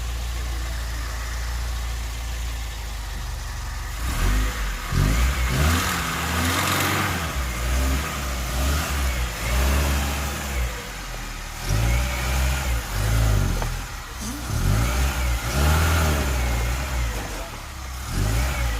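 An old Lada car stuck on a road, its engine revving repeatedly in rising and falling surges over a steady idle, close and fairly loud.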